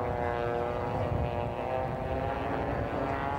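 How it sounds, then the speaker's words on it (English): Racing aircraft passing the pylon at an air race in Madera in 1995, three planes together giving a dense, loud propeller-engine drone throughout. "All three aircraft arriving at the pylon very close together and at the same time."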